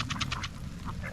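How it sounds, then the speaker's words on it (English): Ducks quack in a short burst of four or five close calls, then a softer call or two, over a steady low hiss of garden sprinklers running nearby. "The ducks are having a field day with the sprinklers on."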